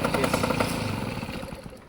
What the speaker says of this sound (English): And there the moped turns off